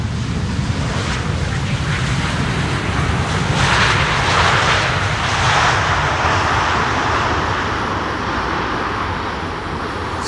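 A Finnair Airbus A350 in oneworld livery lands at Schiphol, a loud, broad engine roar that swells to a peak midway with rushing air, then slowly eases, with no voices.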